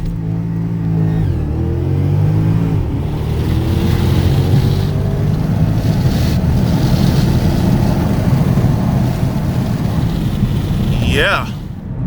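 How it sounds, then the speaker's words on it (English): Porsche, a big luxury car of about 500 horsepower, launching hard from launch control: a loud, close engine roar climbs steadily for about eleven seconds under brief talk, then fades. "Matting the throttle now, and"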